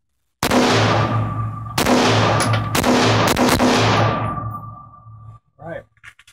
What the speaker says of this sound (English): So we'll shoot a couple rounds with the T-Rex stock extended